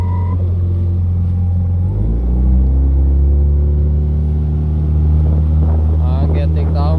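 Motorboat engine on the Norwegian coast, a loud steady drone that shifts pitch as it powers up and settles, close with wind noise, no speech over it.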